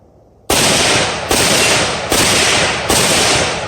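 Four loud, sharp gunshots ring out at an even pace from a budget PSA pistol kit firing mixed brass ammunition, each crack trailing into a long echoing decay outdoors.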